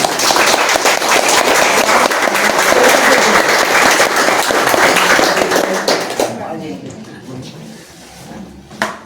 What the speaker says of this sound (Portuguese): Palmas para minha rede